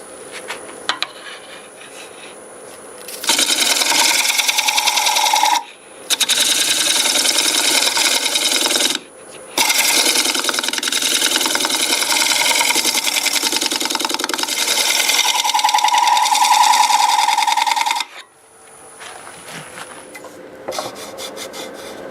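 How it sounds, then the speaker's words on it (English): Wood lathe turning the walls of an intersecting-rings wave bowl with a negative rake scraper in reverse, a steady loud rasping scrape in long bursts broken by short pauses, with the motor's hum between cuts. "I'm going to set up and use the negative rake scraper on these walls right here"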